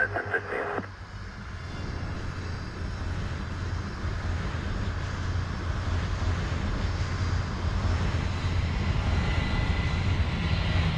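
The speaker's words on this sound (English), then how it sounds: "Fly runway heading, runway 27 left, clear for takeoff, wind 150 at 7." An airliner takes off from runway 27 left at Chicago O'Hare, its jet engine roar building steadily from a distance, with a brief radio-like sound at the start.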